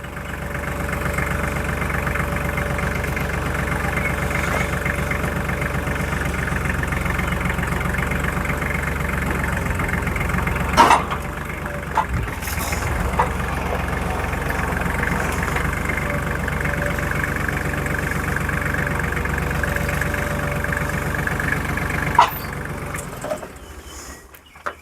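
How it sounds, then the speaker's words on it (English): A tractor engine idles steadily throughout at a loud, close level while a firewood conveyor bed section is lifted during assembly of an Iron Rhino 16ft firewood conveyor, with a few brief clanks near the middle and end. "We used the tractor to pick the bed section up."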